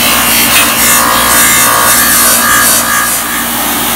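Loud, close abrasive rubbing as paint is scuffed off a 6.0 Powerstroke fuel injector part, repeated back-and-forth scraping strokes with no talk.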